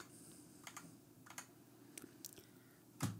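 Keys tapped on a GK61 gaming keyboard, a few quiet irregular clicks in short clusters and a slightly louder clack at the end.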